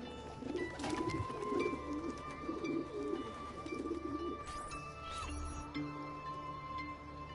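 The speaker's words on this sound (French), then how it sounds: "il fallait que j'interacte avec les pigeons" Pigeons coo in the Assassin's Creed Ezio Collection game, with a run of soft, repeated low coos over a steady game ambience and occasional higher tones.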